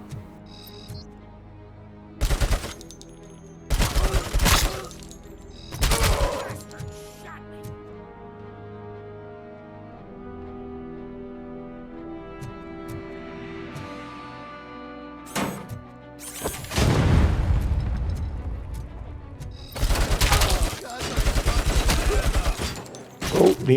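Heavy machine gun fire in the game Robocop Rogue City comes in several loud separated bursts, with thunks and mechanical clatter between, over a low game background and someone talking throughout.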